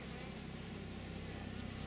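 Honeybees crowd the entrance of a cathedral hive, bringing in pollen: a faint, continuous, steady buzzing drone heard up close with no talk.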